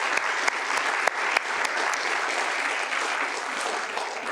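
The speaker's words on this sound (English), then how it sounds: "round of applause for that round of answers there" An audience at a municipal at-large councillor debate gives a steady round of applause, dense and even throughout with a few sharper individual claps standing out near the start.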